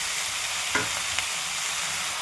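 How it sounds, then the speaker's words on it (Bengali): Malabar spinach being stir-fried in a hot pan for a rohu fish head ghonto: a steady sizzle with a couple of quick spatula scrapes, close and alone. "দেখো আমার ভালোভাবে পুঁই শাক দিয়ে কষে নিয়েছি"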